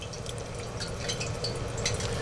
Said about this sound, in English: When the zucchini bubbles like this, when you put it in the oil, the temperature's about right